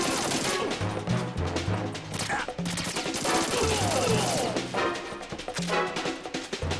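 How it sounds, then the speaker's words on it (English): Stun grenades and gunfire erupt during a firefight in the video game Metal Gear Solid 2, a dense, loud barrage of overlapping bursts and crashes that continues nearly without pause. "Let the stun grenades do their work."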